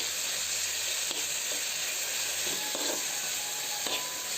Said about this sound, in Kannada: ಮೆಂತ್ಯ ಸೊಪ್ಪು ಪುದೀನ ಮತ್ತು ಕೊತ್ತಂಬರಿ ಸೊಪ್ಪು ಇದನ್ನೆಲ್ಲ ಹಾಕಿ ಚೆನ್ನಾಗಿ ಫ್ರೈ ಮಾಡ್ಕೊಬೇಕು